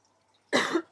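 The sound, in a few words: cough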